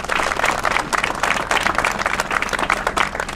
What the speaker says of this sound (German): Ja, ich denke, jetzt mal einen Applaus wert.